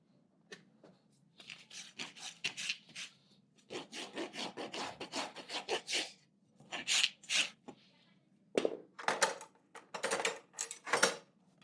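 A horse hoof is trimmed and rasped in short bursts of rough scraping strokes. Each burst holds several quick rubs, separated by brief pauses, close and moderately loud.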